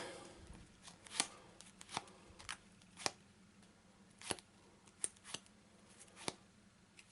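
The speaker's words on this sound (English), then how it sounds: "I'll just do a quick shuffle, a cut, and then we'll draw them all" A deck of cards for the board game Eldritch Horror is given a quick shuffle and cut on a table, heard as a series of sharp, separate riffling snaps and taps at irregular intervals over quiet room tone.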